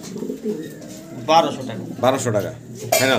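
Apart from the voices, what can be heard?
doves cooing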